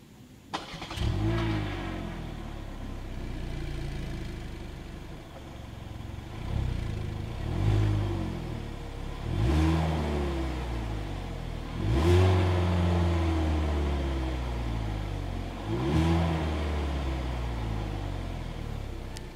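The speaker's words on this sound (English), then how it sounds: "As always, here is that exhaust clip." A 2022 Hyundai Elantra compact car's exhaust starts up and idles, then revs repeatedly in several rising and falling bursts, loud and close, with no talking.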